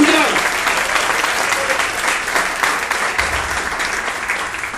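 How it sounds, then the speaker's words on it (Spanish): A church congregation applauds loudly and steadily, dense clapping filling the room for several seconds with a slight fade toward the end. "Démosle un aplauso grandioso, genuino, poderoso al Rey"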